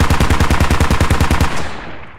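A loud, close burst of about a dozen rapid automatic gunshots from the military shooter game Squad, evenly spaced, then a short fading echo, with no talking.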